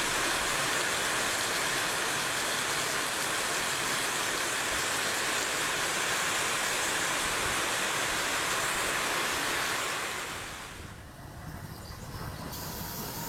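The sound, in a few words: heavy rain at train station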